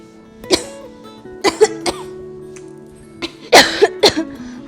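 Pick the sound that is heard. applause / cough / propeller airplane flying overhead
cough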